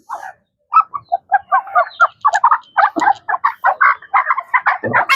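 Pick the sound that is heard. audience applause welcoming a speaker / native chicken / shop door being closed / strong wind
native chicken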